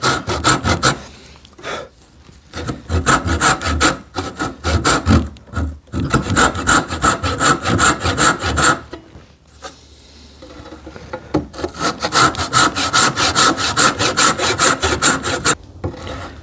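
A hand saw cuts wood in steady back-and-forth strokes, as when sawing a tenon cheek, loud and close with rhythmic rasping bursts and a couple of short pauses between runs of strokes.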